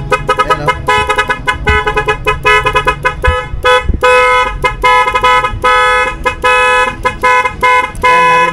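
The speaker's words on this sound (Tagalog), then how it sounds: "Ang lupit ng busina nyo." A loud aftermarket horn wired with a relay module on a 2024 Yamaha Nmax V2 scooter blares close by, first in rapid pulsing bursts, then in longer sustained blasts, with no talk over it.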